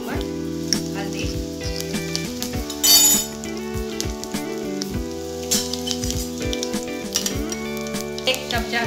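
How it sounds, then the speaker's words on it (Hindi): Cumin seeds and a bay leaf sizzle steadily in hot oil, with frequent metallic clinks and scrapes of a spoon against the pan over the crackle. "जीरा हमारा चढ़कने लगा है, हम तेज पत्ता के 2 पीस करके डालेंगे।"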